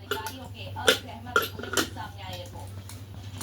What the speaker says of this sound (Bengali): এর জন্য একটু পেঁয়াজ কেটে নিই।